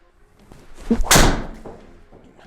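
A Ping G425 golf driver strikes a ball outdoors, giving a single sharp, loud crack with a short fading tail and quiet surroundings before and after.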